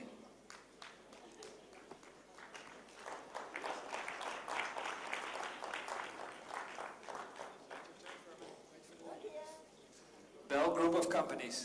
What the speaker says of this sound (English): please give all these companies a big round of applause